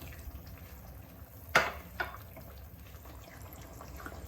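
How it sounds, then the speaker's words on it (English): Half a cup of hot boiled water pours briefly into a pan of lamb bhuna curry, a short splash and trickle close by in a quiet kitchen. "I'm going to add half a cup of hot boiled water"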